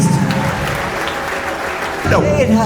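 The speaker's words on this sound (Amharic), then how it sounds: "ለእግዚአብሔር ክብር አጨብጭቡለት።" A church congregation claps together in a dense, steady burst of applause, loud and close, with voices mixed in over the clapping.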